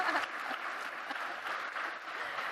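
Conference session audience clapping on cue, a steady dense patter of many hands at moderate distance that holds evenly for a couple of seconds.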